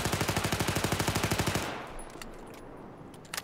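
Rapid burst of MX4 PDW gunfire in Battlefield 4, about twenty evenly spaced close shots in under two seconds, then a fading echo and scattered faint clicks.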